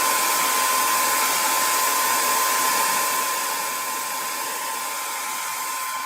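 Heat tool blowing hot air onto a tacky surface, a loud continuous whooshing hum with a steady whine that eases slightly partway through, with no talk over it.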